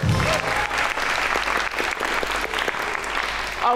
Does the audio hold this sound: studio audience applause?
yes